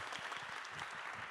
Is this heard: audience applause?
yes